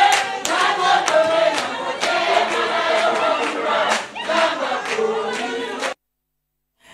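A jubilant crowd cheers and sings together in a dense, continuous roar with sharp shouts and claps, sustained for several seconds before stopping suddenly.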